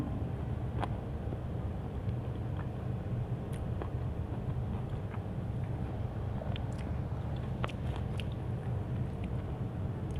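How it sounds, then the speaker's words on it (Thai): Someone eats fresh cherries, with soft repeated biting and chewing close by over a steady low background rumble. "มากินมะเเชอรี่พี่น้อง"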